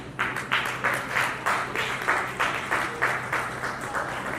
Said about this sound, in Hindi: तालियों में वो जोश और गड़गड़ाहट नहीं है जो होनी चाहिए।